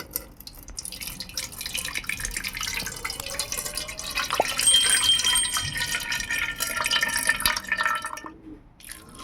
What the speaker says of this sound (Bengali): জলটা ঝাড়িয়ে নিই।